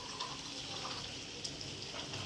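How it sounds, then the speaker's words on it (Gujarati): Water poured into a pan of sizzling garlic tempering for a Gujarati stuffed brinjal and potato curry, giving a steady, close gushing splash with a faint hiss beneath. "હજી થોડુંક પાણી નાખીશું"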